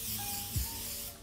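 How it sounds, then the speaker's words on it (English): Grease spray hisses from a can onto a greaseproof baking sheet in one steady, close spray with a faint thump partway through. "We're gonna spray a prepared sheet, a greaseproof sheet, with a grease spray."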